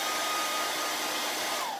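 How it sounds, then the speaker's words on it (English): A hair dryer blows steadily and loudly at close range, heating a 1950 Martin D-28 acoustic guitar during neck reinstallation, a continuous airy whoosh with a faint motor whine and no talk. "I'm going to take this hairdryer and I'm going to heat this whole thing up."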